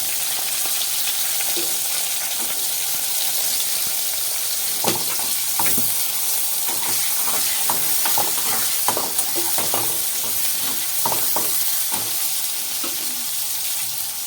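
Slit onions frying lightly in a pan with a pinch of salt for a fresh Rupchanda fish dish: a steady close sizzle, joined midway by repeated scraping and clinking from a spatula stirring, with no one talking.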